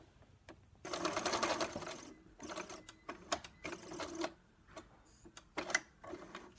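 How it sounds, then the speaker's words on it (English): Sewing machine stitching quilt sashing strips with cornerstones, several quick bursts of fast mechanical whirring separated by short pauses, close and moderately loud. "I'm gonna continue sewing these until I have 5 cornerstones and 4 of these sewn in place"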